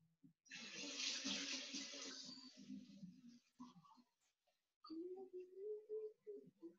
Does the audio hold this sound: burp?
no